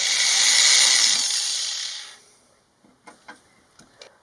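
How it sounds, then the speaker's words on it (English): A power drill boring a small pilot hole into a window sill whines loud and steady for about two seconds, then winds down, followed by a few faint knocks and clicks. "I'll drill a small hole."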